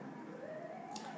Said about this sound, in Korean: 아마 밖에서 지금 경찰차 하나가 지나갔는데 이 소리가 들어갔을 수도 있습니다.